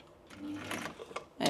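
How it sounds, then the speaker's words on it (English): A sewing machine runs a short back stitch on a tote bag seam, a brief quiet mechanical whir that starts and stops in short bursts, faint and close. "Little back stitch."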